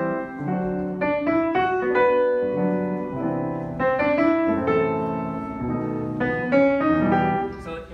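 The original jazz melody is played on a single melodic instrument over chords, with short three-note pickups leading into long held notes, repeating in clear phrases without any talking.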